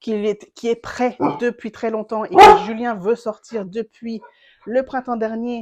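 A dog barks once loudly nearby in the middle of continuous speech by a woman indoors.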